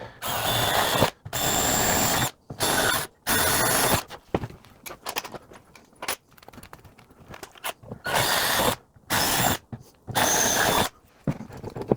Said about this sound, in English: just drill the next size out